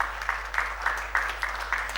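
Audience applause at a Nigerian business leadership event, a faint, steady wash of clapping that swells in soft repeated bursts.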